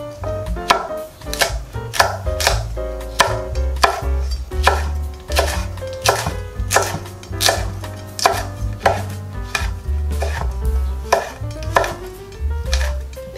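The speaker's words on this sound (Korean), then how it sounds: "청고추, 홍고추도 반으로 잘라서" Green and red chili peppers are halved and cut lengthwise with a knife on a cutting board, producing fast, regular, crisp chops that sound close and loud, with no talking.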